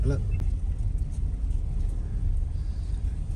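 A car drives on a snowy, slippery mountain road between Nathia Gali and Lower Topa, its low engine and tyre rumble steady and close throughout, with no clear talk over it.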